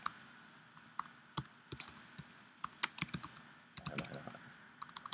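Close, rapid typing on a computer keyboard, with irregular bursts of crisp key clicks and a few louder taps, heard alone without talk.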